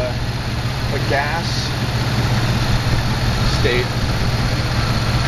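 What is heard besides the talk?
engine running on homemade hydrogen drawn through vacuum hoses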